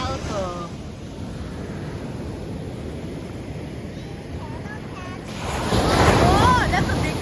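Ocean surf washes onto an Australian beach in a steady roar with wind buffeting the microphone, swelling louder toward the end as a larger wave breaks, with children's and adults' voices chattering over it.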